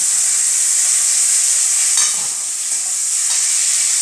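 Tomatoes added to fried onions in a pan for Bengali lau chingri, sizzling steadily and loudly while a spatula stirs them, with a brief scraping stir midway and no talking.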